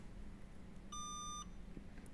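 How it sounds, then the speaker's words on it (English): Startup beep tone from a Vauxhall Astra K during bladed key programming, a single clear electronic beep lasting about half a second, indicating one programmed key, over quiet background hum. "just get one green beep to say that there's one key programmed"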